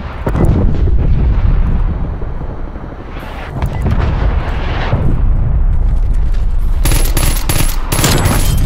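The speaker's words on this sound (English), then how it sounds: "I want to do artillery" An artillery strike in Call of Duty Black Ops Cold War brings loud, booming explosions in a continuous heavy rumble, easing briefly before more blasts hit, with sharp crackling impacts and metallic pings near the end; close and dominant, no talking.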